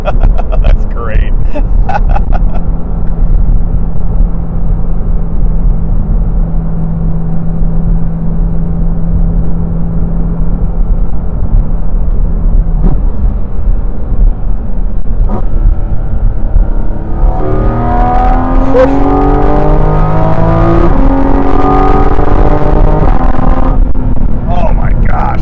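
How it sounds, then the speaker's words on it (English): A 2023 Porsche 718 Cayman GT4 RS engine drones steadily and loudly from close by, then surges into sweeping climbing revs with a throaty intake honk layered over the exhaust, easing off near the end. "you get a little bit of like intake honk, I guess you would call it,"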